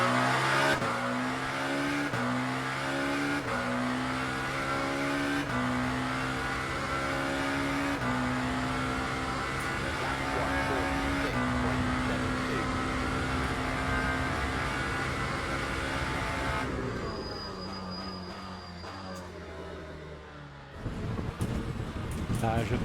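A Lamborghini V8 race car laps Imola in Le Mans Ultimate, its loud engine rising and falling through repeated upshifts and downshifts, with tire squeal and a brief drop in engine note near the end while someone talks over it.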